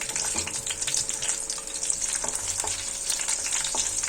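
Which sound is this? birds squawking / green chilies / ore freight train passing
green chilies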